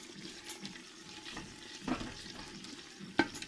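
A spoon scrapes and stirs through potato and drumstick curry in a pot, with soft wet sizzling and a couple of sharper clinks against the metal.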